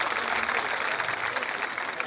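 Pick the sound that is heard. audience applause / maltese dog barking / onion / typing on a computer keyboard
audience applause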